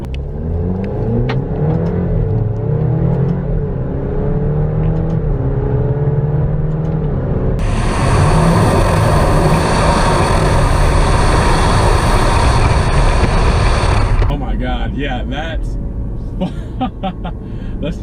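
A 2020 Alfa Romeo Stelvio accelerating hard in dynamic mode, its engine note rising loudly and steadily from the cabin, with a broad, roaring surge in the middle before easing, while a person talks throughout.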